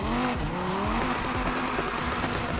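A rear-wheel-drive car slides as its back end steps out under throttle, with tires squealing continuously and loudly beneath a revving engine whose pitch sweeps up and down across a short, close run.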